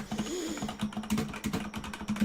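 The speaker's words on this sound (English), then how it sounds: "Ugh, I suck at typing." Close, steady typing on a computer keyboard in Roblox Studio, a dense run of sharp key clicks lasting a couple of seconds over a faint low hum.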